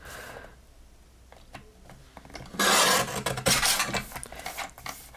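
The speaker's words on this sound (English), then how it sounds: "And I will trim the sentiment out." Paper being trimmed to cut a sentiment out of a greeting card at a crafting table, a dry rasping scrape that grows louder and denser partway through, with short rubbing bursts.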